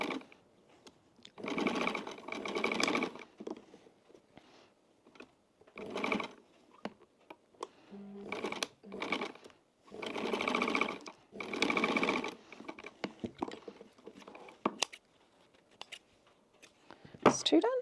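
A 70-year-old Pfaff sewing machine stitches in repeated bursts of rapid mechanical whirring, each lasting a second or two, separated by quiet pauses with small clicks and handling noises, close and clear.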